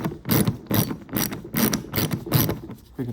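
A cheap number 4 socket working loose the fasteners on a Corvette C6 headlamp, a run of rhythmic ratcheting clicks in quick repeated bursts, close and fairly loud, with no voices.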